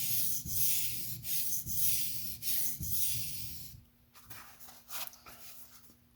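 A TRM Atom knife is freehand sharpened on a stone in quiet, close, rhythmic scraping strokes, about a stroke per second, then a few slower, lighter passes.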